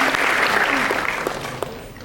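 Applause from a seminar audience at a youth integrity event, a dense steady wash of many hands clapping for about two seconds, fairly loud and close, tapering slightly toward the end with no talk over it.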